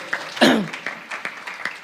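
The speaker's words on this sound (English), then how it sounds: "Let's give Dinesh a very big round of applause." A few scattered claps ring out at a Bhagwat Katha Yagna religious gathering, joined by a brief cheer near the start, then sparse clapping continues.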